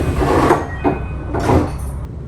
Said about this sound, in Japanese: 足早に列車の扉が閉まります